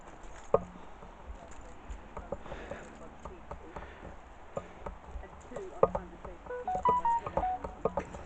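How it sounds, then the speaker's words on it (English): A short electronic phone alert tone sounds briefly amid outdoor background noise, scattered clatter and distant chatter. "And there goes my phone."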